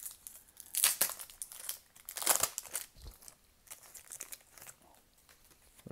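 A Tim Hortons 2021-22 hockey card pack is torn open with two bursts of loud crinkling foil wrapper, then softer rustling and handling of cards, close up and without speech.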